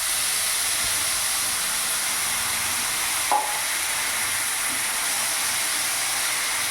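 Spiced paste frying in hot oil with whole garam masala for a Bengali begun bahar eggplant curry, a steady broadband sizzle and hiss running throughout, close and continuous, with one brief clack of a utensil partway through.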